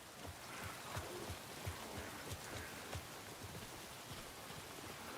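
Steady rain falls in the video game Alan Wake II, a soft, even hiss with scattered low patters of drops, faint and continuous throughout.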